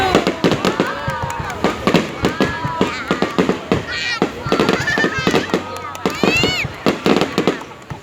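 Fireworks bursting in Biên Hòa, a rapid string of pops and crackles with whistling rockets rising, moderately near; people and children talk throughout.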